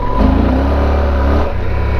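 A Yamaha Tenere motorcycle engine revs on gravel, a loud close growl rising as throttle is applied, dipping briefly and surging again with a rough pulsing exhaust note.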